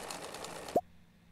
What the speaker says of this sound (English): back to the sewing machine with an opal to see what that would make